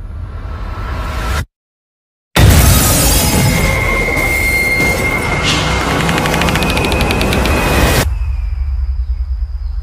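Bomb blast from a Blockman Go Bedwars trailer: a loud, sustained crashing roar with rumbling and metallic clatter, broken by a brief silent gap, then fading into a quieter ringing tail.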